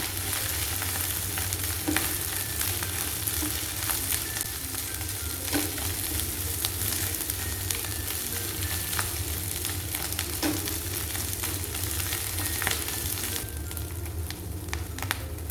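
Beef dry fry sautéing in a pan with crushed dried red chilli gives a steady, close frying hiss with occasional scrapes from stirring, continuous and even, without voices.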